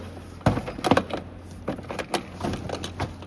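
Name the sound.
pulling Honda Civic door panel off, plastic pressure clips releasing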